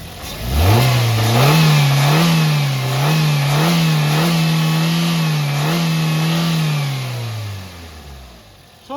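A 2016 Maruti Swift VXi petrol engine revs up steadily under the accelerator, holding a loud, even mid-pitched drone for several seconds before dropping back toward idle, heard close and without talk.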